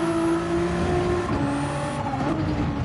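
A race car engine at full throttle in a sim racing game, holding a steady, loud, sustained drone whose pitch shifts slightly as the car runs through a corner.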